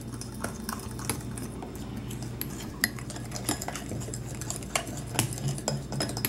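A utensil stirs thick cookie icing tinted with drops of red gel food colouring in a bowl, producing a steady run of close scraping and soft clinks against the bowl, with no talking.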